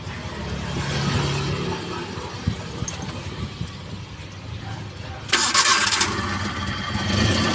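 A multicab with a freshly replaced alternator fan belt cranks and starts, its small engine settling into a steady, close idle with a brief louder rise near the end, while someone talks over it.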